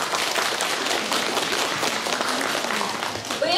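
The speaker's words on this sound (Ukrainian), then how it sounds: "Аплодисменти!" An audience at an amateur concert of a rural cultural centre claps in sustained, dense applause, loud and continuous, with faint voices mixed in as it tapers near the end.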